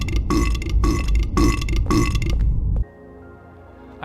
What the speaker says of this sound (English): the nurse equivalent burping every time it gets hit